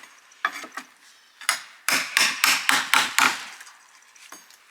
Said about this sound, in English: Using a short pry bar and a hammer,